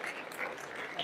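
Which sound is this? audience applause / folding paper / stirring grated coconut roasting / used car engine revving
audience applause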